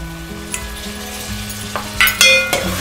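Chopped vegetables frying in a pan with cooked tomato and onion for veg pulao give off a steady, close sizzle, with a few light metallic clinks of stirring toward the end.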